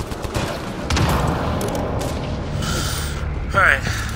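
Enemy gunfire crackles in the video game Mass Effect Andromeda, a loud, dense, continuous barrage of rapid shots with mechanical clatter, steady throughout the short stretch.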